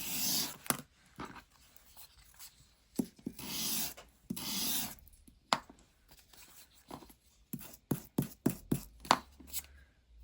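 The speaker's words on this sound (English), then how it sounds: "where's the sander?" Paper strips sanded by hand with a sander for crafting: quiet scratchy rubbing strokes in irregular bursts, ending in a quick series of short, sharp scraping passes, no talking.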